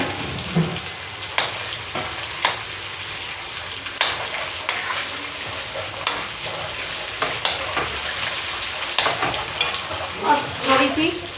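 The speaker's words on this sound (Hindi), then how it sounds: "ये धनिया हम इसी में लाल लाल कर देंगे" Coriander roasting in a pan gives a steady close sizzle of dry frying, broken by frequent scraping stirs and a few louder clinks of the spoon against the pan toward the end, with no talk.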